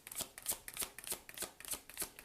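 Tarot cards being shuffled by hand, a quick run of about eight crisp riffling bursts in a steady rhythm, close and quiet with no talking.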